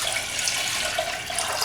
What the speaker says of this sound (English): To begin with, you want white distilled vinegar. And we're just gonna pour it in this saucepan